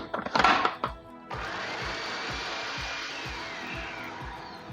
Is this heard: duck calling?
no